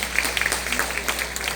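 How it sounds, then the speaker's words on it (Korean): Applause from a residents' meeting audience at an apartment reconstruction briefing, a steady patter of many hands clapping at moderate distance, indoors, with faint voices mixed in. "다시 한번 큰 박수 부탁드리겠습니다"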